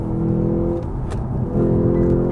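A Lexus GS F engine hums at close range, holding a steady, full tone with a slight swell in revs toward the end and no talking.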